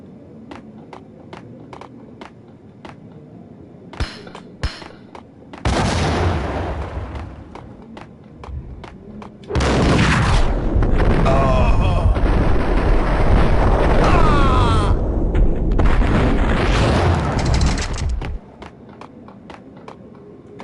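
Loud bursts of gunfire in the Max Payne video game come in two long, dense volleys separated by a quieter stretch with scattered thuds and footsteps.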